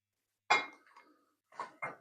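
Knife cutting a bacon and egg salad sandwich on toast diagonally on a carving board: a crisp crunch and scrape, then two short cuts close by in quiet surroundings.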